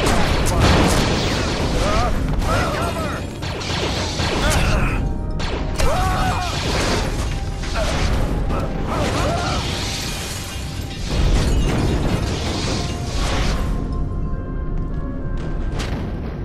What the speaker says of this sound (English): Use Force Grip to smash all the objects and enemies in this room in the allotted time.